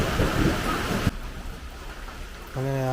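Heavy rain pours during a thunderstorm at a house, a dense close hiss of falling water that thins after a brief thud, with a short tonal sound and voice-like murmur entering near the end.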